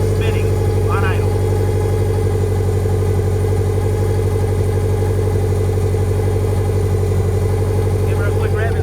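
A fully built turbocharged Honda Civic GSR with an Integra engine, making 500 horsepower on 93 pump gas, idles loud and close with a steady, deep, even burble and a continuous hum that holds without revving.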